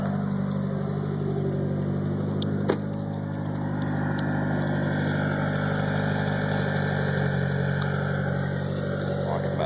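A Mitsubishi Lancer Evolution VIII engine idles on a turbo timer with a low, even rumble and faint whine, close and constant throughout, with one brief click early on.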